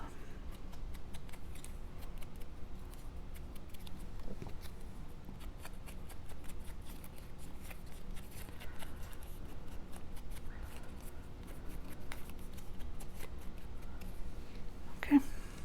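Dense, quick scratchy strokes come from an ink pad being brushed along the edges of a paper card. The close, soft rubbing keeps up with little change through the stretch, and a sharper tap lands near the end.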